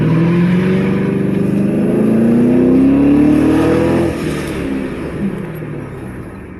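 A Lincoln Town Car fitted with an aFe cold air intake and throttle body spacer revs hard with traction control off, tires spinning; a loud, close engine note climbs in pitch for several seconds, then drops off.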